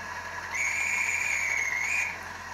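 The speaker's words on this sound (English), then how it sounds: "Can you do the guard's whistle" From a Bachmann 32-393DS model locomotive sound unit, a guard's whistle sounds as one steady, shrill tone held for about one and a half seconds, clear and alone.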